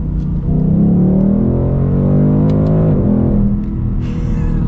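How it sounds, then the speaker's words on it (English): A Ford Mustang GT California Special V8 revs hard and close, its pitch climbing, dropping with downshifts and climbing again, a loud muscular roar with no voices over it. "You really can't beat the sound of a GT Mustang. It just sounds so muscular."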